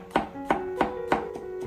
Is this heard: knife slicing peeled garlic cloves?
yes